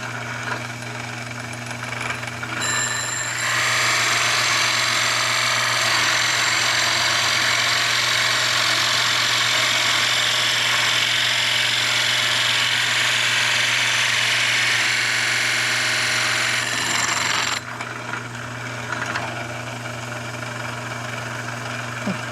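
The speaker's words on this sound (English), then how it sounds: "Now I'll go ahead and drill it." A power drill bores partway into a wooden toy wheel, sounding as one loud, sustained whine of about fourteen seconds that starts and stops abruptly, with a quieter motor hum running before and after.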